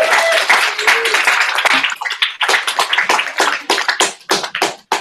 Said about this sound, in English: Clap for Max.